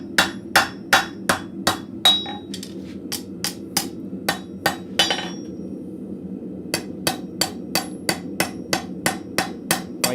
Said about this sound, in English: I'm just using the horn of the anvil or the bit of the anvil to work that shoulder a little bit more